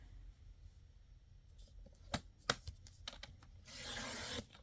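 Card stock cut down to size for a handmade card with a few scraping and snipping strokes, quiet and close, ending in a longer steady rasp as the blade runs through.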